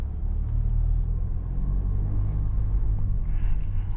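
Low, steady engine rumble of a Mercedes V-Class van rolling slowly through an enclosed garage, a continuous muffled drone heard from inside the cabin.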